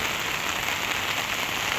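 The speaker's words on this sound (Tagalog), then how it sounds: "Kasi ang lakas talaga ng ulan guys" Heavy rain pours steadily onto a surface outdoors, a dense, continuous hiss of drops that stays loud and even throughout, with no voices.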